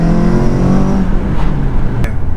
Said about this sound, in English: let's have a cheeky pull before the exhaust drops off